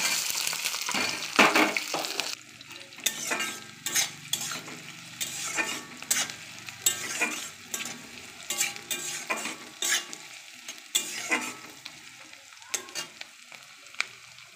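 Chopped onions fry in hot oil for mutton biryani, sizzling up close while a utensil stirs and scrapes the pan in irregular bursts, with no talking.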